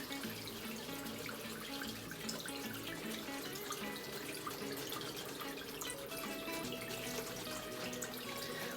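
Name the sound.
water running while rinsing makeup brushes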